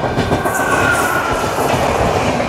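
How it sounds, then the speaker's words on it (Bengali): Ernakulam Junction–Howrah Antyodaya Express, an all-general-coach train, rolls into a station with steady loud rumble and rail clatter, close by and continuous, with no voices. "চলে আসছে ট্রেন নাম্বার 22/878 এর্নাকুলাম জংশন থেকে হাওড়া অন্তোদয় এক্সপ্রেস।"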